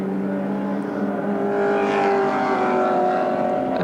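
Touring race cars at Lakeside circuit roar over the top of a hill and down toward the right-hander at Park Royal, a sustained close engine drone with shifting pitch and no voices.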